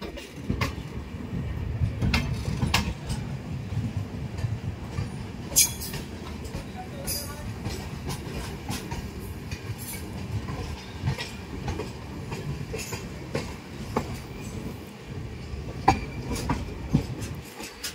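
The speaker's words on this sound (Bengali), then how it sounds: "সামনে থেকে আসছে রাঁচি হাওড়া ইন্টারসিটি এক্সপ্রেস, আর আমারটাও হচ্ছে ইন্টারসিটি এক্সপ্রেস।" Howrah–Ranchi Intercity SF Express running on the rails, a steady rumble with scattered clacks and brief squeals throughout, loud and continuous with no voices.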